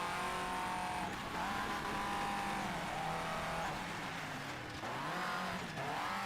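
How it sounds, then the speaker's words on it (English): A rally car engine in Colin McRae: DiRT revs high and continuously, pitch rising and dipping through gear changes, with tires scrabbling over a loose dirt surface. "Car sounds are actually pretty good in this game."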